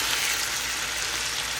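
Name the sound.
stir-frying Philippine-style noodles with onions and peppers in pan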